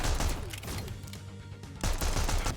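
Rapid bursts of gunfire crackle from an indie video game, dense and loud, with a brief lull in the middle before the volley resumes.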